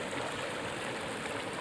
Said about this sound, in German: Ganz kleiner schicker Bach hier.